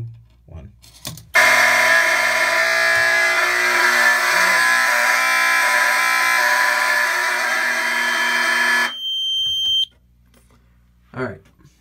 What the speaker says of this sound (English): Without a doubt, that is the loudest and most annoying alarm.